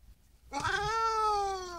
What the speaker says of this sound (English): See, even they got the cat upset.